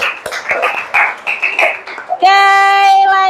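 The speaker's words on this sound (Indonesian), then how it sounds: "Yuk, tepuk tangan buat kita semuanya." Children in a classroom clap their hands in a brief rhythmic patterned clap, sharp close claps in short bursts, followed by a sustained tonal sound at the end.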